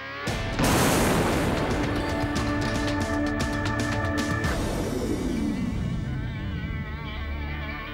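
A loud, close explosion booms and crackles, with scattering debris and a long rumbling decay.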